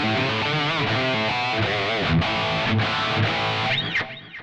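Distorted electric guitar fitted with new Distortion Mayhem pickups, played with sustained, heavily overdriven chords and notes, loud and continuous before ringing out and fading.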